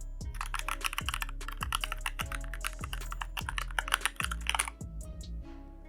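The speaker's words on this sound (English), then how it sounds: "It is a mechanical keyboard, so check it out." Typing on a mechanical keyboard built as a tablet accessory, with rapid clicky keystrokes in quick bursts heard up close, and no talking.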